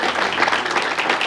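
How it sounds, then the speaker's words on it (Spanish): Dense, steady applause from a congregation at a church service, loud and continuous for a brief moment. "Denle un fuerte aplauso al Señor."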